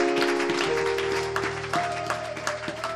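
Church congregation applauding for the Lord during a worship service, a steady wash of clapping with sustained organ or keyboard tones underneath and no talk.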